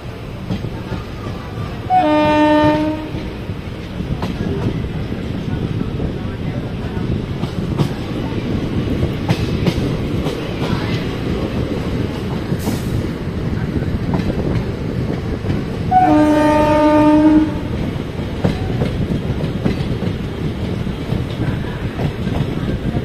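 A goods train rumbles past close by with steady rolling clatter, and its horn sounds twice in long blasts, one near the start and another after about fifteen seconds.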